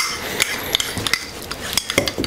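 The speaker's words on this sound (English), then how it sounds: "Put 2 slices of lemon inside of it" Lemon tea with honey and lemon slices is handled in a cup, giving a few light metallic clinks and scrapes of a spoon against the rim, close up and with no voices.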